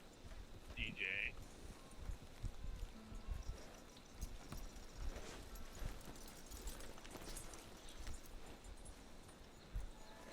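Horse hooves clip-clop at a walk in the distance over a steady outdoor background, with people talking faintly and a brief whinny-like call early on.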